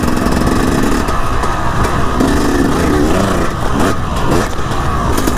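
A road-plated dirt bike's engine revs hard and close, its sputtering, buzzy note rising and falling in quick bursts with no talking.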